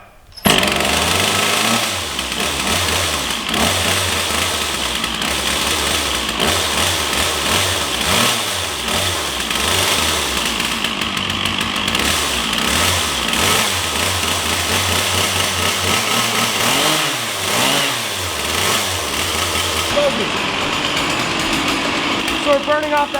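An old chainsaw, obtained for free, runs steadily while burning off stale gas and smoking heavily, its close engine note surging and dipping through repeated revs, with voices faintly beneath.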